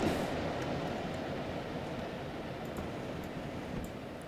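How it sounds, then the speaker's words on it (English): A Class 67 locomotive in Train Simulator 2020 rolls toward a stop, giving a soft, steady rail rumble with faint, scattered clicks and no voices. "So we'll get the train to stop here."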